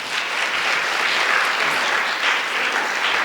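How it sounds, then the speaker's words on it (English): An audience at a community gathering on secular Buddhism gives a sustained round of applause, dense even clapping throughout with no talking. "Let's give her a round of applause."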